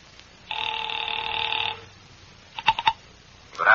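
A telephone rotary dial is worked: a steady tone holds for about a second, then a tight cluster of clicks and a short burst close by, with no voices.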